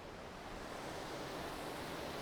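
A waterfall about 10 meters high with a couple of separate cascades roars in a steady, dense wash of broadband noise, close and continuous with no voices.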